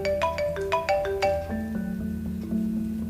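A phone ringtone plays a bright repeating melody of short electronic tones, then shifts into a steadier warbling ring pattern, loud and close with no talk over it.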